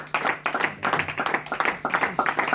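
A church congregation applauds together in a brisk, uneven burst of many hands clapping, close and lively, with a voice rising briefly over the clapping.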